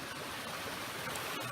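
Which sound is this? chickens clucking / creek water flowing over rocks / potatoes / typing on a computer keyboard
creek water flowing over rocks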